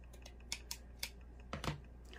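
Scissors snip off a seamed piece while making a fabric woodland gnome, giving several quick, crisp cuts close by, no talk.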